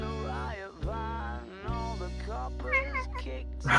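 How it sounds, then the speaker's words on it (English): A cat meows repeatedly up close, several drawn-out, pitch-sliding mews one after another over a steady low hum, loud and clear with no talking. "It's a cute cat."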